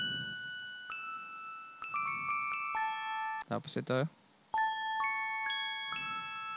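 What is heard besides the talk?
bells in a jingle arrangement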